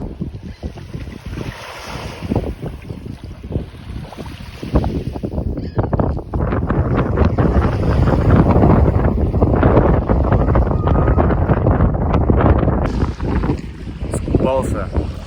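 Wind buffets the microphone while waves wash steadily onto the Lake Michigan shore in Wisconsin, a loud rushing surf building through the middle, with someone talking at times.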